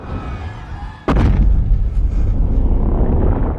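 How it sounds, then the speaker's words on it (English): A heavy, booming impact from Godzilla's chunky feet striking the ground in a monster film scene, one sudden loud thud after a second of low ambience, followed by a sustained deep rumble. "Godzilla's chunky feet hitting the ground."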